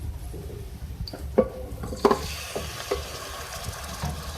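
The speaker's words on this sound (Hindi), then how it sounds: "मैं इसमें हाफ केजी जो है बीफ का गोश्त वो ऐड कर रही हूँ।" Half a kilogram of beef goes into a hot pot of oil with cardamom and cinnamon, bringing a steady sizzle with several sharp clinks and scrapes of a spoon against the pot, all close and moderately quiet.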